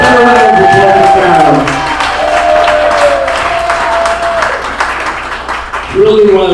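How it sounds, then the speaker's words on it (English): An audience at an Elks lodge comedy show claps and cheers for Karen, a loud burst of applause that thins out and then swells again as a voice speaks over it. "How about a round of applause for"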